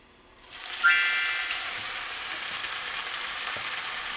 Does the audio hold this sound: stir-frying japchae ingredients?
yes